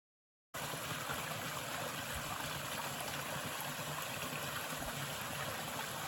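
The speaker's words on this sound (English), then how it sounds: "It's really a nice fly fishing stream." Mill Creek, a fly-fishing stream in a nature park, runs steadily after a moment of silence, a continuous trickling, rushing flow with no voices.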